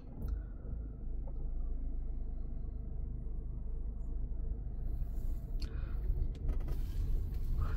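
A car engine idling and pulling away in first gear, a low steady rumble close by with slight rises in revs toward the end, no talk.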